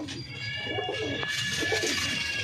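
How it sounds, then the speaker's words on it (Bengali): Pigeons cooing softly in low, rolling repeated calls, close by, over a steady background hum. "খুব ভালো পায়রা দিয়েছি"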